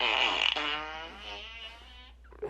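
A drawn-out, squeaky fart with a rising and wavering tone, lasting a couple of seconds, close and clear, ending in a brief puff.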